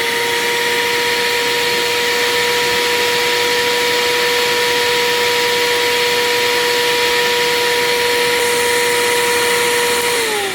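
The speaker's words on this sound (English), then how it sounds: "Now I'm going to vacuum." A HAUSHOF 4-gallon wet/dry upholstery vacuum cleaner runs steadily and loudly throughout, a constant motor whine with a broadband rushing airflow hiss and no break in the drone.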